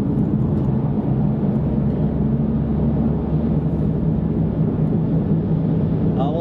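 Steady low road rumble and engine drone fill a car cabin on a busy road in traffic, continuous and unbroken with no talk.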